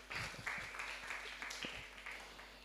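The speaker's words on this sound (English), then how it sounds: "give yourselves a round of applause as well" Audience applause at a symposium, a steady wash of clapping from a crowd that holds at moderate level throughout, heard from a distance in a hall.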